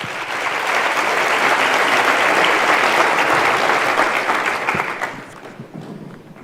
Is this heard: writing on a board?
no